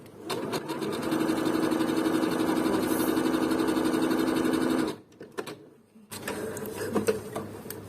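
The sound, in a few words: Bernette Sew and Go 8 sewing machine sewing zigzag stitch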